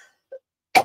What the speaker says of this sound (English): I keep coughing because I have this cough